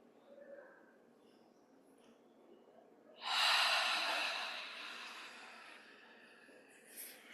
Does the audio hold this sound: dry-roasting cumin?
no